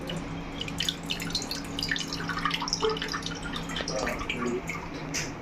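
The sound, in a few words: water pouring out of a broken coconut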